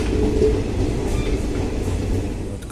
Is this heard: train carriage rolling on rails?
yes